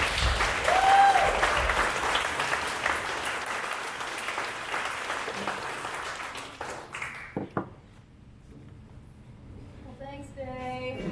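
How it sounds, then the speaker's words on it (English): Audience applause at a Juneteenth community program fills the room at close range, a dense sustained clapping that gradually thins out and fades, with a few scattered claps and murmuring near the end. "If you guys can start clapping right now"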